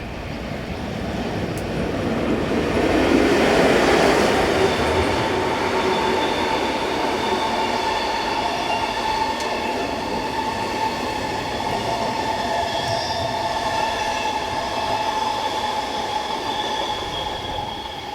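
Swiss electric locomotive 11172 hauls a train on the Gotthard north ramp, a loud continuous rumble of rolling stock with sustained high wheel squeal and whining tones running throughout, swelling early then holding steady as it passes close.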